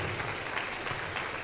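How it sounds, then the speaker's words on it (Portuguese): Applause from a church congregation during a teaching service, a steady, moderately faint wash of hand claps with no speech over it. "Pode aplaudir Jesus."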